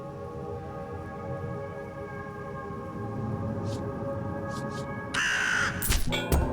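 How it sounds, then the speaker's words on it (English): Crow caws ring out in a card-based solitaire video game, a few short calls over a steady droning music bed, followed by a louder burst of game sound near the end. "Thank you, bird."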